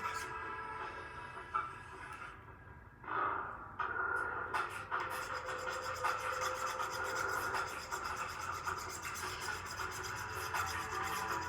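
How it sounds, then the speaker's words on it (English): Steady rasping of a ring file working a sterling silver court wedding band, a continuous close scraping that runs almost without pause after a brief lull near the start. "The ring file is just slightly narrower than a standard half round file."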